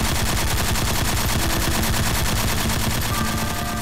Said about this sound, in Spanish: Sonaron disparos en las habitaciones cercanas.